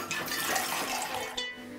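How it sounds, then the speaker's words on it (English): Water pours steadily into the lower pot of a Turkish çaydanlık, a continuous close splashing stream that runs alone for nearly two seconds before briefly cutting off near the end. "we are going to start now with filling this part with the water"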